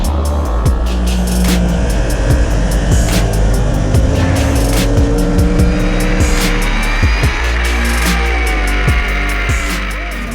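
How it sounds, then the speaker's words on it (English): A stock motorcycle laps a race circuit, its engine loud and near, with rising and falling revs and gear changes as it passes. "I'm just going to go out there with the bike completely standard"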